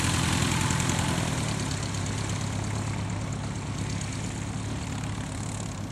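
A vintage Bronco aircraft idles on the apron at an airshow, its propeller engine a loud, steady, close drone that holds even for the whole stretch with no voices over it.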